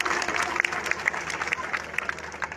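Audience applause for Maheshsinh Chauhan at a pathshala inauguration: lively, dense clapping from a crowd, with sharp individual claps standing out and voices murmuring underneath.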